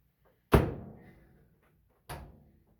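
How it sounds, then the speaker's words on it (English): A Samsung dryer door is pushed shut with a sharp close thunk, followed a second and a half later by a second, softer knock, both near and clear against a quiet room. "Does the door close?"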